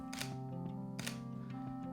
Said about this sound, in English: So let's take a photo and see how it looks.